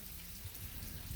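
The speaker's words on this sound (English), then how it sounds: "and the rain is not letting up" Steady rain falls as a faint, dense patter with no voices, heard on a backpacking trip in Big South Fork, Tennessee.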